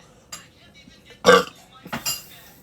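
A single loud burp or hiccup from someone who has been drinking carbonated soda, arriving after a few faint clinks and followed by softer throat sounds and a brief rustle.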